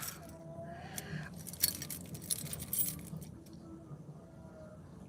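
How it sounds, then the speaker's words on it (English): A large bunch of house keys on a keychain jingles and clinks in quick, bright bursts near the microphone, with quieter rustling between the jangles and no talking. "Guess which one is my house key out of all these keys."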